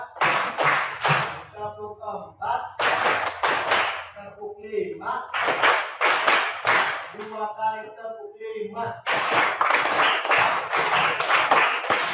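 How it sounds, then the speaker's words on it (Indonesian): Primary school class doing rhythmic group clapping in bursts, sharp claps interleaved with chanted counting voices, loud and close in a classroom, with short pauses between rounds. "Tepuk 1, tepuk 2, tepuk 3"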